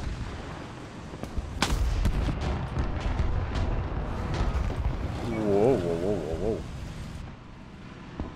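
A tank cannon fires at the player in War Thunder, a loud booming blast early on followed by rumbling, while engine drone and a man's excited speech continue over it.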